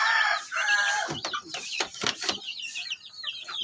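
Rhode Island Cross chickens clucking and squawking up close in a flock, with a rooster's rising crowing calls mixed in over a steady busy background.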